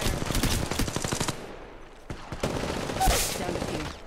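Rapid bursts of automatic gunfire in Apex Legends Mobile, a fast rattling stream of shots, then a pause and another short volley, loud and close.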